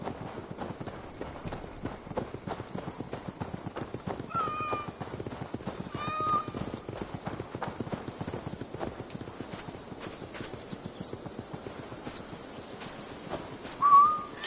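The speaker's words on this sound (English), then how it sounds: "I never thought the meow of cats could soothe my soul." Cats meow in the game Assassin's Creed Valhalla, a few short mews scattered over steady rhythmic footsteps, with a louder meow near the end.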